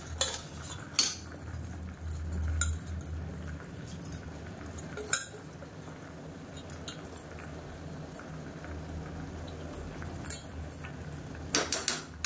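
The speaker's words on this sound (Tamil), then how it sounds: "சேர்த்துட்டு கலந்து விட்ருங்க." Soaked rice being stirred into chicken biryani in a pressure cooker, with a quiet steady scrape and several sharp metallic clinks of a ladle against the pot, no talking.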